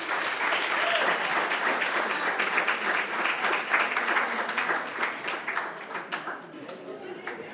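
An audience at an outdoor youth civic event at Msunduzi Athletics Stadium applauds the poets, with loud, sustained crowd clapping and some cheering that gradually thins out toward the end.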